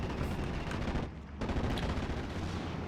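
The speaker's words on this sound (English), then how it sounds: "the airborne rifles pick up the kill with one shot" Rifle fire from airborne infantry in the Steel Division: Normandy 44 World War II strategy game, a dense, loud barrage of overlapping shots that briefly thins out partway through, then resumes.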